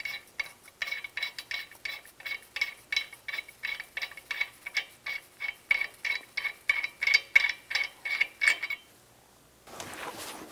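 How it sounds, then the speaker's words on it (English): Rapid ratchet clicks in a steady rhythm from a ratchet wrench working a lug nut off a 2007-2014 Chevy Silverado 2500 HD during a front brake job, close and clear, ending abruptly before a brief burst of noise. "you can take the lug nut off"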